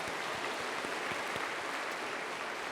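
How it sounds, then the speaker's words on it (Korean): A church congregation claps in thanks for the choir at a New Year Sunday service, a full, even wash of applause that holds steady and fairly loud for the whole stretch. "우리 감사의 박수 한번 하도록 할까요?"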